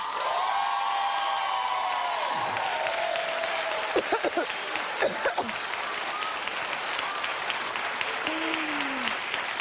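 Studio audience applause for Jimmy Kimmel on a daytime talk show, a full steady roar of clapping mixed with a few whoops and cheers, with a voice briefly heard over it.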